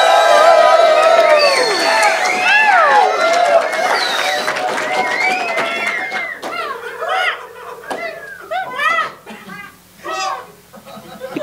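A crowd cheers and whoops loudly as a sound effect for a live-coded arcade game, a dense burst of excited voices that thins out into scattered shouts and laughter toward the end.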